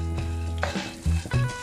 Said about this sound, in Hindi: हल्की आँच पे भूने